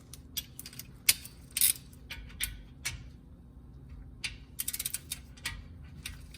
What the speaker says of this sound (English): Now we get a torque wrench, 26 foot-pounds.